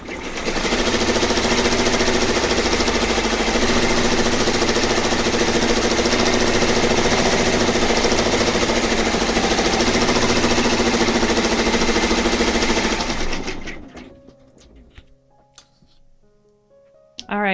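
An embroidery machine stitches the final outline on a fabric table runner, a loud, fast, steady mechanical hum and clatter that runs for about thirteen seconds and then stops abruptly, leaving quiet handling noises.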